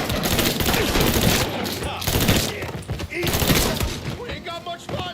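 Dense gunfire in Mafia III, a sustained fusillade of shots crackling loudly through the whole stretch, mixed with shouting voices and game ambience.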